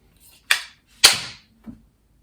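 Sharp metallic clacks from working the charging handle of a Kel-Tec Sub 2000 9mm folding carbine: two crisp, close snaps about half a second apart, then a softer, duller click, with quiet in between.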